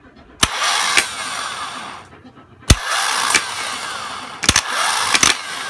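Starter solenoid on a Toyota SDK8 skid steer engine clicking and cranking in three bursts, each opening with a sharp clack followed by a steady mechanical whir, separated by short pauses.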